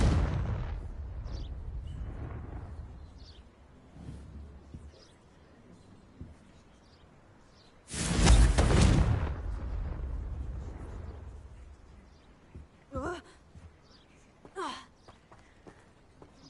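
A Confringo blasting curse in Hogwarts Legacy bursts into one loud, sudden explosion with a deep rumbling tail that fades over a couple of seconds, set among quieter spell effects and ambient game sounds.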